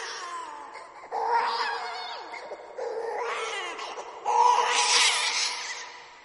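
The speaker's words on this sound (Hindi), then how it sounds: "रिया को ऐसी आवाज आने लगी कि जैसे कोई बच्चा रो रहा हो" A wailing baby-like cry in a horror story, rising and falling in three drawn-out, strained bursts that grow louder toward the end, sounding close and eerie with no talk over it.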